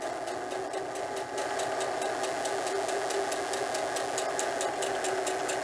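A sewing machine stitching a diaper bag tote, its steady mechanical whir with fast, regular needle ticks running continuously up close, and no one speaking.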